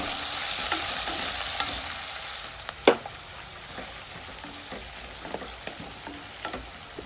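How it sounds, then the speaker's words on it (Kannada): Square-cut onions frying in a pan for prawn chilli, a continuous close sizzle with occasional stirring clinks and one sharper knock partway through, no talk. "ಹಾಗೆ 3 ಈರುಳ್ಳಿನ ಸ್ಕ್ವೇರ್ ಶೇಪ್ನಲ್ಲಿ ಕಟ್ ಮಾಡಿ ಹಾಕ್ತಾ ಇದ್ದೇನೆ. ಇದನ್ನು ಸ್ವಲ್ಪ ಫ್ರೈ ಮಾಡಿಕೊಳ್ಳಿ"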